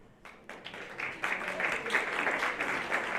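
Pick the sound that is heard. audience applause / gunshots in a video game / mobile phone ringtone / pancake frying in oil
audience applause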